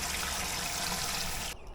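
Clean water pours steadily into the container of a chicken nipple watering system, a continuous close trickle and splash that cuts off abruptly near the end.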